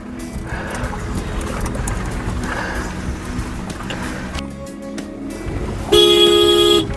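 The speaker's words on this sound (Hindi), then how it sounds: "चलो, तो मैं गाड़ी लेके आ रहा हूँ, माइक मेरे पास है, इसलिए आवाज़ आपको आ रही होगी।" A 2025 Honda City is driven on a rough mountain road between Losar and Koksar, giving a continuous rumble of engine and road noise that ends in a short, loud horn toot.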